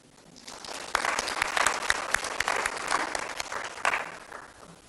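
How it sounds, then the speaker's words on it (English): Applause at a Pan African youth convention swells quickly from quiet into a lively round of clapping, holds for a few seconds, then fades away, with no voices over it. "We need to clap for Gen Z."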